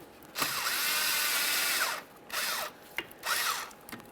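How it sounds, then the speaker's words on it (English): A power tool with a 7mm socket loosens a hose clamp near the intercooler on a 2013-2020 Ford Fusion 2.0L four-cylinder during radiator replacement. Close, loud whirring comes in one long burst, then two shorter ones with brief gaps between. "Use a 7mm to loosen the clamp."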